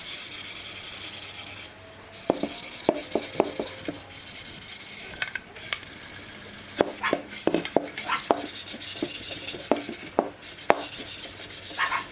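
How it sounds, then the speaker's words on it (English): A red Scotch-Brite pad scrubs back and forth across a wooden guitar body, a continuous rough rasp punctuated by sharp taps and knocks, close and steady. "I'm going to be getting a red Scotch-Brite, and I'm going to be just sanding it with that"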